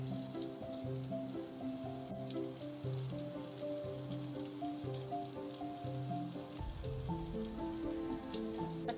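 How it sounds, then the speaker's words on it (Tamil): A small spicy egg omelette in the Lebanese style fries in a pan, giving a soft, continuous crackling sizzle at low level, with steady background music. "ரெண்டு பக்கம் நல்லா பொன்னிறமா வறுத்து எடுத்துக்கலாம்."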